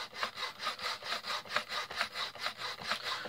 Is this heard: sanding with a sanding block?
yes